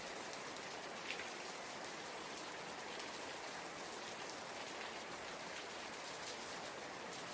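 Steady rain pours down in a dense, even hiss that holds unchanged from start to finish, fairly quiet and with no voices or other sounds.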